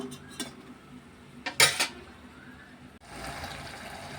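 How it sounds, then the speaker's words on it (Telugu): Mutton dropped into a pan of fried onion and tomato, giving a few sharp clattering splashes and scrapes, then a steady sizzle as the meat starts frying. "ఇప్పుడు మనం ఈ మటన్ ఇందులో వేసేసుకుందాం."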